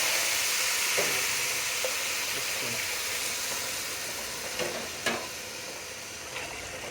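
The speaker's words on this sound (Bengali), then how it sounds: "চাল ভাজা হয়ে গেছে, গরম পানি দিয়ে দিলাম, সিলভারের পাতিলে নিয়ে দিলাম" Hot water poured onto fried rice in a silver pot sets off a loud, continuous hiss and sizzle with steam, broken by a few faint clinks of utensils.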